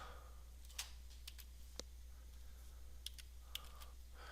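Faint typing on a computer keyboard during a programming session, a handful of sparse, quiet key clicks spread unevenly over a steady low background hum.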